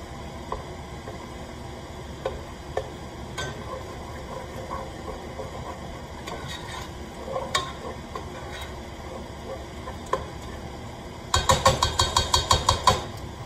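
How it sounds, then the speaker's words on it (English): Spatula or spoon scraping and tapping in a pan while a big block of vegan cream cheese is broken up over low heat, sporadic clacks followed by a quick run of rhythmic knocks near the end, quiet background. "just breaking up the cream cheese here, the big block of cream cheese"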